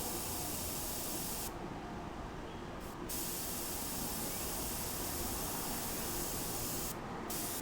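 Airbrush sprays alcohol ink in a steady, faint hiss that runs continuously, with brief changes in tone as the spray shifts.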